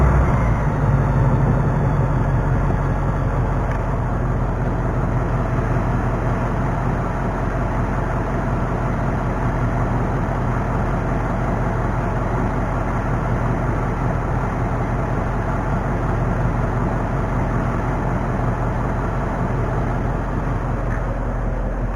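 A 2019 Ford Mustang GT V8 idles steadily in a garage, giving a loud, continuous low rumble with no revving and no pauses.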